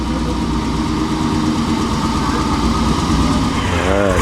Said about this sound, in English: The supercharger just screams on this thing.